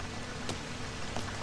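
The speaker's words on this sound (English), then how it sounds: "Still raining." Steady rain falls in the PlayStation 4 Dreams game Sanity, a soft, even hiss of drops with a couple of faint brighter spatters, no voices.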